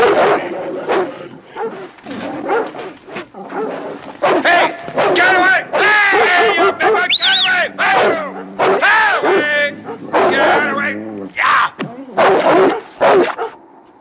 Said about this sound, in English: That dog, you'd better stay away from Spitz